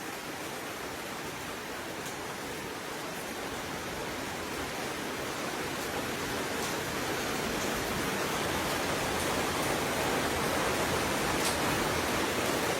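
Steady rain pours down outdoors as a dense, even hiss that holds at a constant level throughout, with no other sounds standing out.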